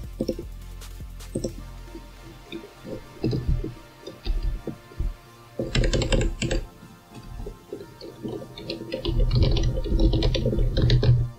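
Typing on a computer keyboard while entering commands into a Linux terminal, close and fairly loud, with bursts of clicky keystrokes, short pauses, and a denser flurry of keys near the end.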